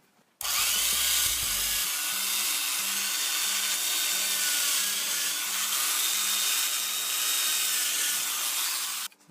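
A power drill whines steadily for several seconds as it bores pilot holes into wood, loud and close, with a brief motor start at the beginning.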